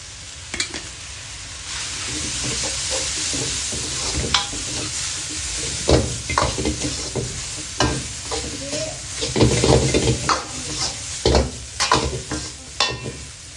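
Minced pork stirring and frying in a pan with bamboo shoots, basil and glass noodles, a steady loud sizzle under repeated scraping strokes of the spatula, growing busier toward the end.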